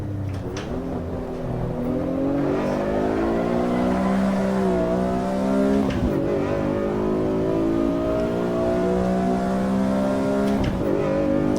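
A race car engine in the Assetto Corsa EVO racing sim howls loudly through a slide, its revs rising and falling in long sweeps with brief dips between throttle changes and no voices over it.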